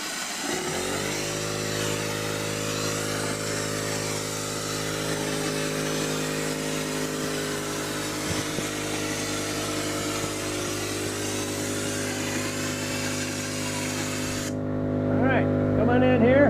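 An air compressor feeding a hopper spray gun runs at full power, blowing rock texture coating onto a wall during a remodel; a loud, constant engine hum with a hissing spray layer holds for about fifteen seconds before the hiss cuts out.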